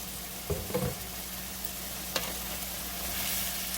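Peppers and onions sizzle over high heat in a pan, a constant close hiss with a few scraping stirs early on and one sharp tap of a utensil, no voices.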